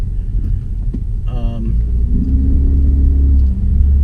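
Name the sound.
2016 Ford Focus SE engine rumble while driving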